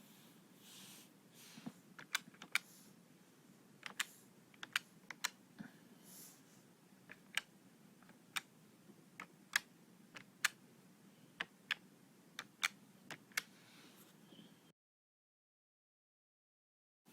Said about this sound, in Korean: 식이 적힌 순서대로 덧셈과 뺄셈, 나눗셈, 곱셈의 연산 버튼을 함께 누른 다음 마지막에 등호를 눌러보도록 하겠습니다.